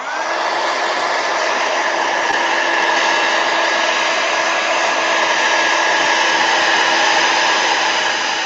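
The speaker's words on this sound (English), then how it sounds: "I'm going to hit this with a heat gun" A heat gun blows hot air over watercolor paint in one continuous loud, steady whoosh with a faint whine, close up and unbroken for the whole stretch, with no voices.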